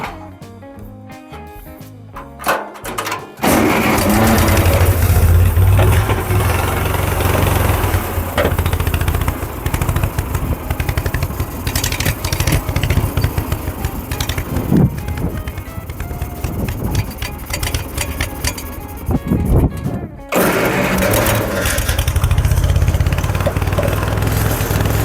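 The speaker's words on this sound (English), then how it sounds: "Flooding out. Carb is not happy." An old tractor engine, abandoned for decades, sputters and roars unevenly as its flooding updraft carburetor struggles, loud and close with rough surging bursts and a brief cut-out before picking back up.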